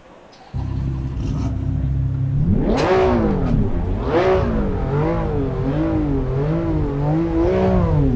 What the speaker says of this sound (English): A little bit more tame engine note than the M4 GT4.